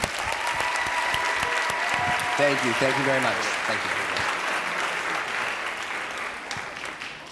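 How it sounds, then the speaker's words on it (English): Steady audience applause fills a summit hall after a panel with a sign language interpreter, continuous and fairly loud, while someone speaks briefly over it. "let's give them a round of applause as well"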